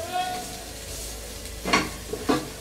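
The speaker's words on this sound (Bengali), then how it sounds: "দেখেন, এই হয়ে গেল আমার ডিম ভাজা।" An egg fries in a pan for vegetable fried rice, with a steady background sizzle and a few sharp scraping stirs of a spatula against the pan toward the end.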